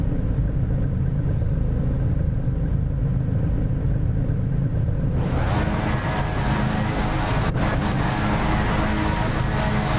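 Race car engines at the start of an iRacing Skip Barber race at Spa, a low rumbling drone that swells sharply into louder, brighter engine noise about halfway through, with a brief sharp transient after.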